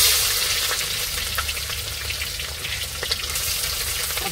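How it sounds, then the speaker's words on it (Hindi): Onion, chili and garlic frying together in a pan for duck curry, giving a steady, loud, close sizzle with crackling pops throughout and no talk. "डाल रहे प्याज मरचाई और लहसुन"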